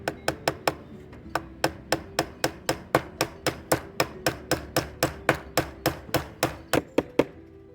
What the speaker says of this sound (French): on va lamer tout ça avec des clous à l'ancienne